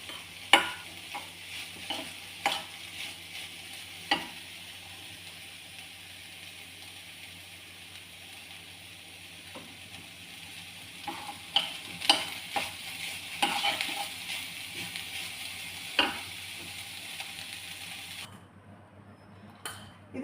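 Beetroot thoran being scraped from a pan onto a plate, with scattered spoon-on-metal clinks and scrapes over a faint sizzle, moderately quiet and close, ending abruptly.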